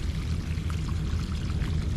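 Water pouring out of a yard drain line: a steady, close, continuous gushing splash with no pauses.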